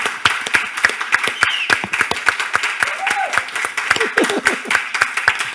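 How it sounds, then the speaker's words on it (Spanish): Audience applause at a Komedialdia 2022 comedy event, a steady patter of many hands clapping for about five seconds, fairly close and lively, with a few voices mixed in. "Pues un aplauso para Iñaki"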